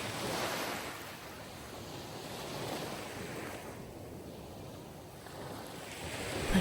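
Steady sea waves wash onto the shore in a continuous broad roar that swells and eases, with light wind noise on the microphone and no voices.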